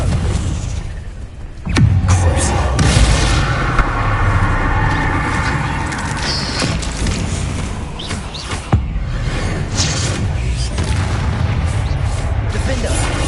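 Fiery blasting-spell explosions from Hogwarts Legacy combat: a sharp boom near two seconds and another near nine, each bursting over a constant loud rumble of battle noise, with a voice talking now and then.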